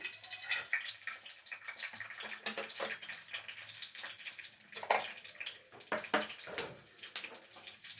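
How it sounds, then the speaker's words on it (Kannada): Garlic frying in hot oil for an Andhra-style gongura pachadi, a dense, steady crackling sizzle with wet, bubbly pops that continues without break for the whole stretch, close by and with no talk over it. "ಎಣ್ಣೆ ಕಾದ್ಮೇಲೆ ನಾವು ಬೆಳ್ಳುಳ್ಳಿನ ಹಾಕಬೇಕು"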